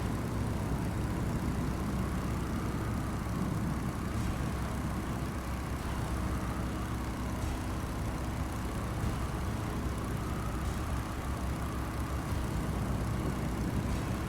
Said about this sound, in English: my engine sounds a bit like a rattling tin